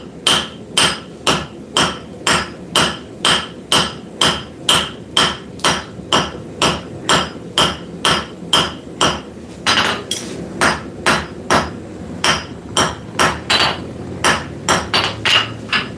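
Hammer forging a small round bar down to a square point on an anvil in a workshop, steady close metallic blows at an even rhythm of about two per second, quickening toward the end.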